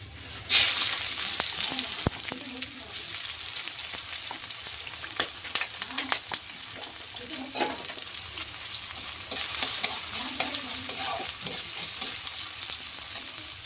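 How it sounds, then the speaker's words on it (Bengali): Continuous sizzling of onions frying in oil with dried chillies and bay leaves, with occasional scrapes and knocks of a spoon stirring the pan, close and fairly loud. "এরপর দেবো পেঁয়াজ।"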